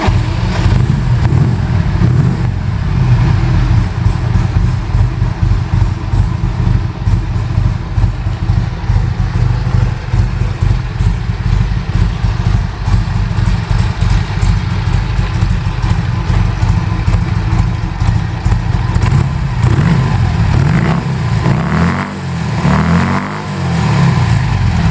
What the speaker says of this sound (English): We all know how to start Harley.